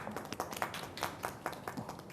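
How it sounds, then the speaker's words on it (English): Light, scattered clapping from a small crowd at a women in pharma business event, faint and somewhat distant, lasting a couple of seconds. "Can we clap for them, please?"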